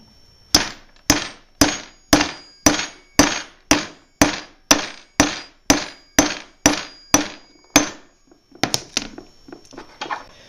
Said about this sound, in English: I'm going to take a hammer and I'm just going to tap it down.